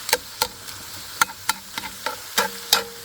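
Ground meat that has browned in a cast iron Dutch oven over charcoal is chopped up with a utensil, sharp repeated scraping clacks against the iron at an irregular rhythm over a low sizzle.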